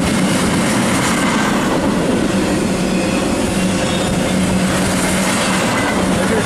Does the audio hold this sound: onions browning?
no